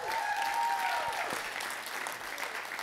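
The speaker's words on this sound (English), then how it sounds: "Give her a big clap." An audience breaks into sustained applause, a dense wash of clapping that stays loud throughout before easing slightly, with no talk over it.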